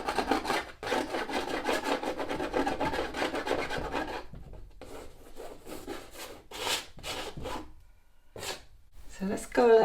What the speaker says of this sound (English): Actually peeling paint off from previous layers.